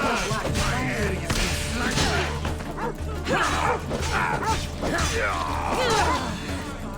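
A dog yelps and barks amid a dense, loud wash of game sounds from Assassin's Creed Odyssey, with crashing and mechanical noise throughout.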